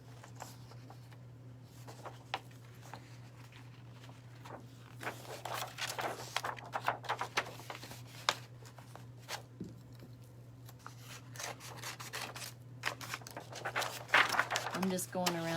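Scissors snip through scrapbook paper being trimmed for wooden earrings, a run of close, crisp cuts and crinkles over a steady low hum, growing busier in the second half.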